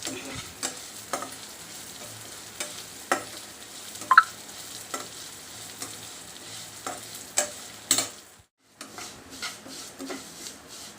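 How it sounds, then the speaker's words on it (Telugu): Soft sizzle of vermicelli frying in ghee in a pan, punctuated by repeated scraping stir strokes at an uneven rhythm, close up, with a brief silent gap near the end. "అదే నెయ్యిలోకి సేమియాని వేసి ఇలా వేయించుకోవాలి"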